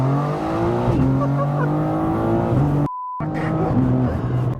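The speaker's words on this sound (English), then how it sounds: "Let's do a quick launch then, Jack." A 750hp Evolve-tuned BMW G82 M4 launches hard, its engine climbing through gears with loud rising revs and quick shift dips, heard from inside the cabin, briefly cut by a muted tone before pulling on.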